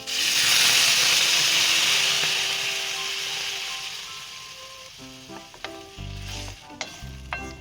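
Spices and slit green chillies sizzle loudly in a hot pan as water is poured in for a cauliflower roast, a broad steady hiss that gradually fades, then gives way to scattered clinks and knocks of a utensil.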